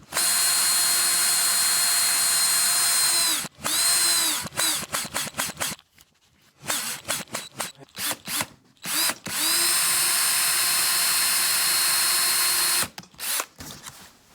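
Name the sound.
power drill drilling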